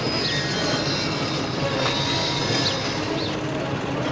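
A cartoon train engine sets off pulling fuel tankers in the middle of its train, a steady, loud rumbling roll with faint high squeals from the wheels and no voices.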